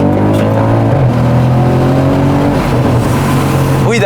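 An Audi RS6 Performance accelerates hard on a straight road, its loud engine roaring continuously with rising pitch through the gears, heard up close without speech.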